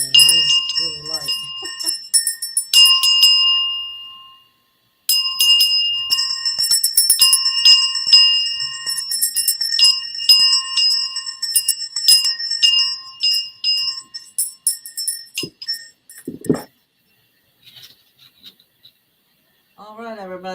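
Two hand bells, one of them light, ring repeatedly in clear sustained metallic tones with short pauses between bursts, close and loud, followed by quieter clinks and a voice speaking near the end.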